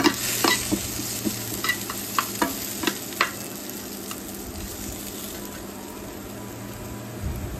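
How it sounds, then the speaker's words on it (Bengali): Potato fry stirred in a pan at night: a series of scraping, clinking strokes comes early on over a soft, steady sizzle. The sizzle continues alone after the stirring stops. "আলু ভাজিটা প্রায় হয়ে আসছে"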